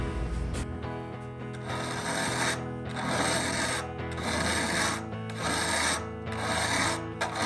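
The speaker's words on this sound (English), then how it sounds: "I take a triangular file of the correct size for the saw and file the raker V deeper" Rhythmic rasping of a triangular file scraping back and forth across crosscut saw teeth, deepening the raker V, repeated strokes with brief pauses between them.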